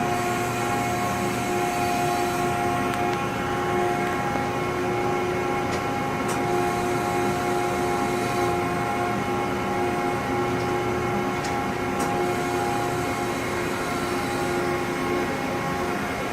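An ERMAKSAN Microbend 1000-40 hydraulic press brake, a 44-ton, 40-inch machine, runs with a constant loud hum and a few faint clicks as it cycles, with no talking.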